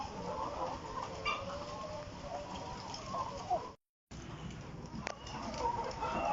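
Layer hens in a 3000-bird poultry shed, recently recovered from illness, cluck and murmur steadily at close range, with a short silent break midway.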